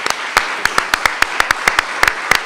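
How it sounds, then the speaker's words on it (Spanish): An audience at a literary tribute event gives scattered, sharp claps at an uneven pace, loud and close, over a quiet background. "quisiera pedirles un último aplauso para el ICURA y por su generosidad"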